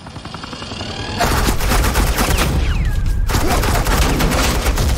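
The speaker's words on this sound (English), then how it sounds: "Suppressing fire." Sustained suppressing gunfire in Batman: The Enemy Within, a dense rattle of rapid shots that starts after a quieter opening second and keeps up loud and continuous, with a brief sweeping whine partway through.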